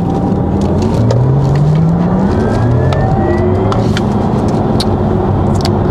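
A Porsche at the 2022 Porsche World Roadshow drives on a circuit, its engine giving a loud, continuous whirring drone with rising and shifting pitch as it accelerates, heard from inside the car with no talking.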